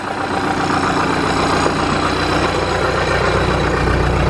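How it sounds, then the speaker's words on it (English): A big New Holland backhoe loader's diesel engine idles close by, a loud, steady low rumble with an even, throbbing chug that doesn't vary. "my big New Holland backhoe loader. So I'm gonna get this thing fired up"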